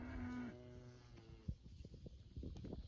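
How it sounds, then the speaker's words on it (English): A herd of cattle moos, one long low call up front followed by quieter lowing and shuffling sounds from the animals nearby. "He'd never seen that many cows together in one place before."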